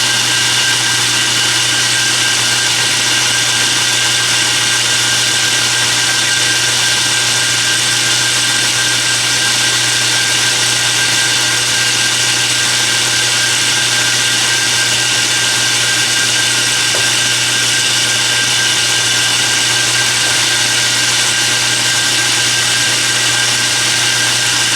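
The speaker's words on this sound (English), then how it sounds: "Okay, I got my left-hand drill bit in there." Power drill fitted with a left-hand bit tries to drill a stuck bolt out of a broken log splitter, giving a loud steady whine with a constant hum that runs unbroken and close.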